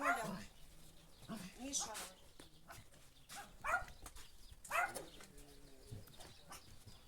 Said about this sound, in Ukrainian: Ти чого кидаєшся на мене злий пес?